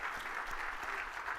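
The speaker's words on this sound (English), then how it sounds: "Everybody give Martin a round of applause." Applause from a conference audience at a live tech event, a steady dense wash of clapping throughout, moderately distant and fairly quiet, with no talk over it.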